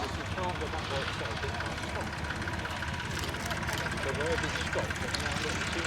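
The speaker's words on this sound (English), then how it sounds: "Very nice landing there." A Royal Aircraft Factory SE5a, a WWI-era biplane over 100 years old, with its engine droning steadily during landing, a continuous rough mid-distance roar that holds level throughout.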